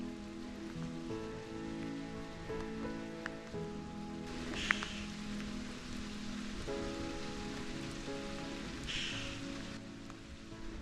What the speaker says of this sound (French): Bon ben voilà, ça y est, on est sous la pluie. Petite pluie, mais ça rafraîchit.